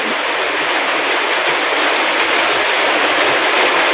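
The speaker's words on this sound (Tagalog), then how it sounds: "Ito ang agos ng sapa" A flooded, overflowing stream rushes steadily, producing a dense broadband roar of turbulent water that stays close and even throughout, with no voices.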